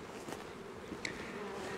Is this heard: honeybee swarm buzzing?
yes